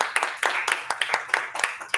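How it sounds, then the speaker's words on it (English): An audience at a Toastmasters club meeting claps. Quick, sharp, uneven handclaps sound close and steady throughout, with faint talk beneath. "So let's give another round of applause to."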